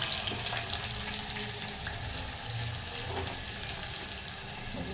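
Sliced onions fry in hot oil with ground spices for a mutton curry, giving a continuous dense crackling hiss that stays loud and close throughout.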